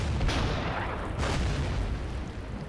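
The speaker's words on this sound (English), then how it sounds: "Let's attack it with this normal barrage." Artillery barrage in the WW2 strategy game Order of Battle, heard as a dense, continuous rumbling roar of shellfire with a couple of sharper booming bursts, loud and close with no talk over it.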